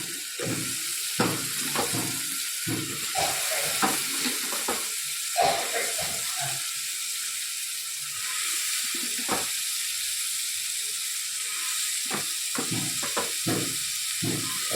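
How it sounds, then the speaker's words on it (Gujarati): Chopped valor beans, eggplant and potatoes frying in a hot pan, with a continuous sizzle and repeated scraping stirs, while a voice talks over it at times. "જે આપણે વાલોર, રીંગણને બટાકા સુધાર્યા તો એ નાખી દઈએ"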